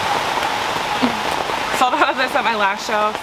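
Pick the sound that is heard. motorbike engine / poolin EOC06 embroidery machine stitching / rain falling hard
rain falling hard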